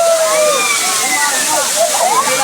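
Suruli waterfall in Theni pours down in a constant, close splashing roar of falling water, with voices faintly audible beneath the rush.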